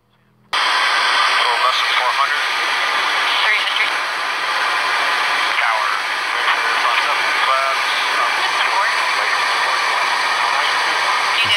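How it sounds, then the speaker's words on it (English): Loud, steady roar fills the cockpit of a Lockheed C-130 Hercules military aircraft in flight, a dense broadband engine and airflow drone that starts abruptly and holds constant throughout. "It's the C-130 Hercules. Quite a noisy military aircraft."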